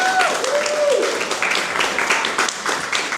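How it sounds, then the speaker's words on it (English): Audience round of applause at a storytelling and poetry open mic at the Arts Council of Princeton, steady dense clapping filling the room, with whoops and cheering voices rising over it near the start. "A little bit of a round of applause, please."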